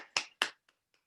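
Two sharp hand claps in quick succession, close and crisp with a short room echo, followed by two much fainter taps, a lone pair of hands standing in for applause at the end of an astrophysics lecture.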